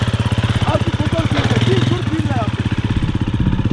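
Enduro motorcycle engine running steadily during an off-road riding lesson, a close, loud pulsing idle with rapid rhythmic firing throughout, while an instructor speaks over it.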